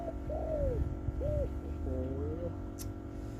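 A spotted dove coos a few times at a moderate distance, soft rounded calls over a low background rumble.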